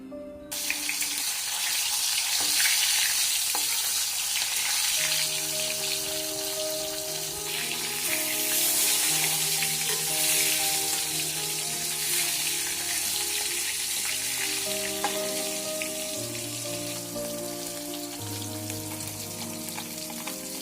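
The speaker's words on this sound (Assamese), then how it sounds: "প্ৰথমে মই মাছ 2 পিস ভাজি লম।" Two pieces of fish fry in hot oil on a home stove, a steady close sizzle and crackle running throughout, with occasional clinks and scraping in the pan.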